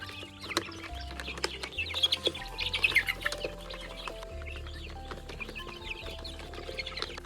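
Aria layer hens on a farm in Kokrajhar cluck and chirp continuously while eating feed, a busy flock murmuring at close range over a steady low hum.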